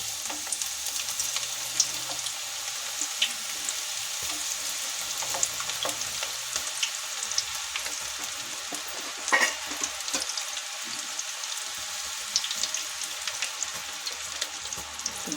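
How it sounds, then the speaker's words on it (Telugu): Onion pakodi fry in hot oil with a steady, close sizzle and crackle, carrying scattered pops and bubbling bursts throughout, with no talking. "కాగిపోయిన నూనె ఇలా పొడి పొడిలాడితే వేసుకోవాలి పకోడీలు"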